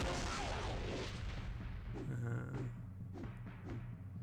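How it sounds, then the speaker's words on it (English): A pipe bomb goes off in a zombie shooter video game: a dense, loud booming blast at the start that rumbles and fades over a few seconds, followed by scattered lighter thuds and pops. "So I've got to throw a pipe bomb."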